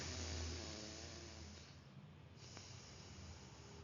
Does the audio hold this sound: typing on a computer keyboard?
no